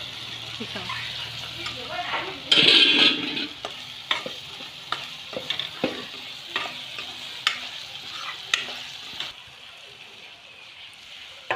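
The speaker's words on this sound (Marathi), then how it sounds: "वगारमध्ये आपण तेल टाकायचं, मसाला टाकायचं, जिरं मोहरी टाकायची आणि वगार करून द्यायचं." Cumin and mustard seeds sizzle and crackle in hot oil in a kadhai, a loud burst of frying followed by softer spattering and stirring clinks, with a voice speaking briefly in between.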